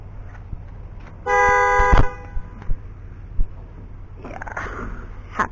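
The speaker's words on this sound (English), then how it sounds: "She's not impressed by their honking, huh, Hope?" Car horns honk near a horse farm in Hocking Hills, a sustained harmonic blast of about a second followed by a few short toots and faint stirring noises.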